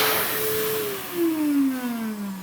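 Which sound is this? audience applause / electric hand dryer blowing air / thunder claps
electric hand dryer blowing air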